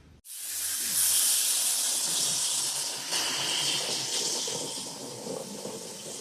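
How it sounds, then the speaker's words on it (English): A HydroKleen spray gun pushing nearly 7 litres a minute of water through a ductless air conditioner coil gives a loud, continuous hissing spray that starts abruptly and holds steady for several seconds. "that one gun is pushing about nearly 7 litres a minute, and it's finding its way all the way through that coil"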